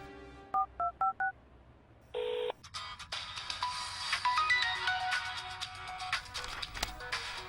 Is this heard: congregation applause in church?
no